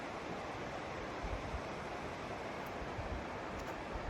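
Glacial meltwater of the Carbon River pouring out from the Carbon Glacier, a steady dense roar of rushing water heard alone and continuous without talk.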